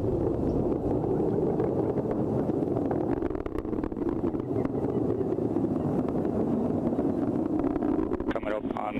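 Atlas V rocket launch with its RD-180 booster engine, a steady, loud broadband roar that rumbles continuously through the whole stretch, with wind buffeting on the microphone and a voice talking over it.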